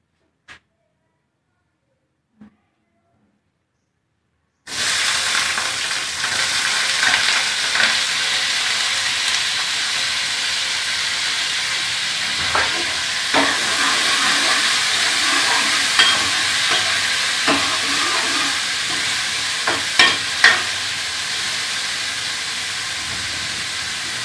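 Onions hit hot oil in a home kitchen pan after a few seconds of near silence, then a loud, continuous frying hiss follows with scattered pops and stirring clatter, up close.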